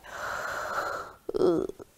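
A person yawns aloud during a gentle morning yoga stretch: a long drawn-out open-mouthed exhale, followed by a shorter breathy, snorting release.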